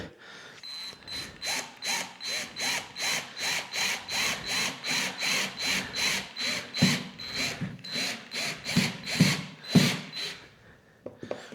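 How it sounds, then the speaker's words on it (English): A power drill drives a screw down into wood while assembling a TV cabinet, its motor whirring in a steady run of short pulsed bursts, close and loud, with no talk over it. "We're gonna screw it in down into the wood."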